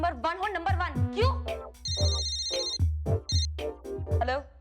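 A telephone rings in a Hindi crime drama scene, its bright electronic tone sounding in two bursts beneath steady conversation between people nearby.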